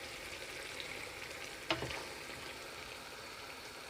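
A goat leg sizzles in a hot pot, a steady low hiss of frying with one sharp crackle and clatter as the meat settles, faint and without talk.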